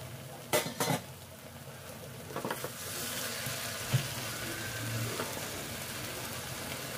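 Water spinach and potatoes cook on a medium flame, a low steady sizzle with a couple of sharp utensil clinks near the start and a soft tap later, quiet overall.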